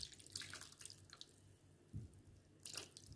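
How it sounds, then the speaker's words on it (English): Water is poured from above into a cooking pot holding chopped Irish potatoes, coming as quiet, intermittent splashing bursts with soft drips between them. "And next, I'll add in some water."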